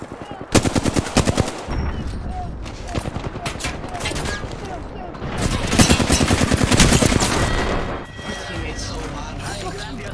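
Loud, sustained automatic gunfire and rapid bursts from the video game Apex Legends, dense and continuous for most of the stretch, with players talking over it.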